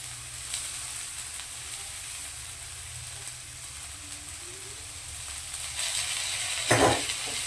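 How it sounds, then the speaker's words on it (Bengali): Chow mein noodles hitting a hot pan with vegetables for a restaurant-style stir-fry, a steady soft sizzle with a brief louder scrape and hiss near the end. "সেই কারণে আমি এখন দিয়ে দিচ্ছি চাউচাউগুলোকে"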